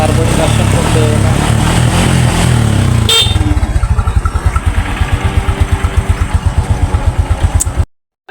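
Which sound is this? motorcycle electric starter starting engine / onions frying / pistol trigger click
motorcycle electric starter starting engine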